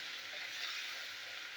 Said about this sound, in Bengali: মশলার সাথে ভেজে নেবো।